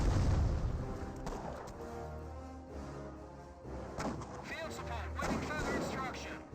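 Artillery barrage in the video game Company of Heroes 1, Wehrmacht versus British, with heavy booming shell impacts and rumbling blasts rolling through continuously, loud and dense, under a commentator's talk.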